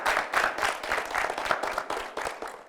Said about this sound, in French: Vous pouvez l'applaudir pendant qu'elle arrive.